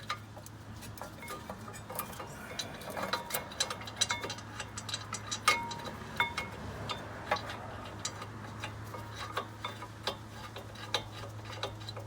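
A ratchet tightening brake carrier bolts on a Honda CR-V during a front brake job, a quiet stream of irregular ticking clicks over a steady low hum, with no talk.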